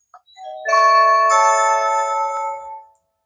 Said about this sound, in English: Let's go ahead and ring the doorbell.